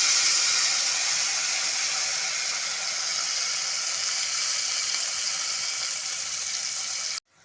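Paste of onion, garlic, ginger and green chili hits hot oil tempered with nigella seeds and dried red chilies, giving a loud, steady close-up sizzle and hiss that runs unbroken before cutting off abruptly.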